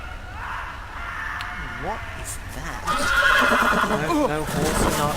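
In a Game of Thrones video game, a horse lets out a loud, wavering whinny, then neighs again more strongly, with crow-like caws and hoofbeats mixed in.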